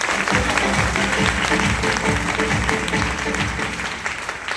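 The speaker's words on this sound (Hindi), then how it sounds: "एक बार जोरदार तालियां अपनी अपनी माता रानी के लिए," Loud, sustained applause from an audience at a devotional event honouring Mata Rani, a dense wash of clapping that runs unbroken for several seconds with rhythmic music thumping underneath.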